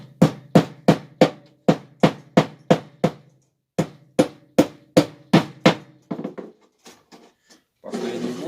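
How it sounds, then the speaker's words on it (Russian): A nail is hammered into a homemade rabbit feeder with cut metal sheeting, about fifteen sharp, evenly spaced blows ringing close and loud, a brief pause midway, then lighter taps and a scraping rustle at the end. "Ну, пожалуй, еще один гвоздик-то мы забьем."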